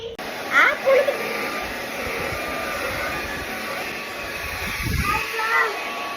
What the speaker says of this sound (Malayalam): നമുക്ക് ഇനി ഡ്രയർ വെച്ചൊന്ന് സെറ്റാക്കാം.